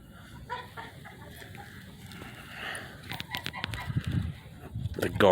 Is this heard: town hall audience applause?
no